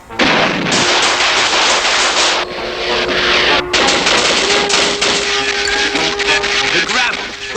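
Cartoon gunfire as police and army open fire, loud and dense, a sustained barrage of rapid shots and blasts filling the whole stretch, with brief gaps and a steady tone running through it.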